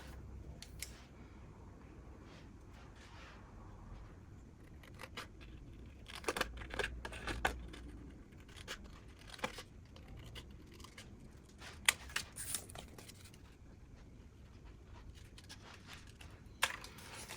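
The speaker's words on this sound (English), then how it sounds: "So let's cut up January." Scissors cutting paper pages for a Hobonichi Techo planner, heard as quiet, close snips and rustles in irregular clusters against a soft background.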